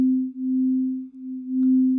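Synth tone from Audiotool set with a long, slow attack, a pure steady hum that swells in gently and repeats three times with brief dips between, alone and clean.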